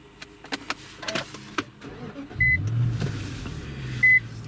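A few clicks and interior shuffles inside an Infiniti or Nissan car come before the engine cranks and catches. After that comes a steady low idle, with two short electronic chimes over it.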